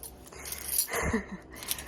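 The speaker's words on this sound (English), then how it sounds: "I hook my keys on my jeans." Keys jingle briefly and close by, a quick metallic jangle of soft clinks.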